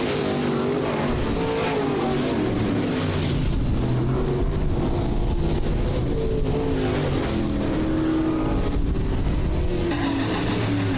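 Midwest late model race cars roar around a track in a heat race, engines droning loud and steady with rising and falling passes, no talk over them.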